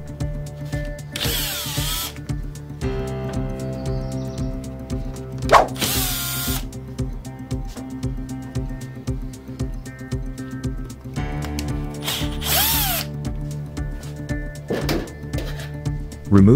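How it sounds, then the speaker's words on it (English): Power screwdriver backing screws out of the rear of a printer drum unit, several close whirring bursts with ratcheting clicks, separated by pauses and low mechanical handling noise. "Remove the 4 screws from the rear of the drum unit."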